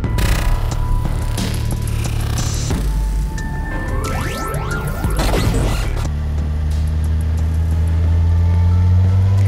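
A cartoon robot transforms into a motorbike with a run of rising mechanical whirs and sweeping shifts, then a steady engine drone carries it away. The sound stays loud and continuous throughout, with no talk.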